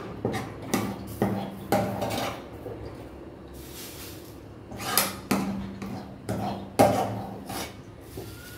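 A spoon scrapes thick gram-flour pithla out of a kadhai onto an oiled plate, producing repeated metallic scrapes and knocks at an uneven pace, close and moderately loud, with no voices.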